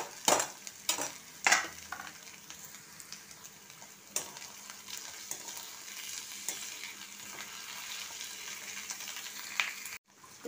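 Fish frying in hot oil in a pan for a Bengali fish chop, a steady close sizzle with a few sharp clinks and scrapes of utensils near the start, and no talking.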